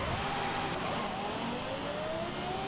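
Drag car engine held at full throttle in Forza Horizon 5, a loud, steady roar with a tone that climbs slowly as the car pulls, continuous and alone without any talk.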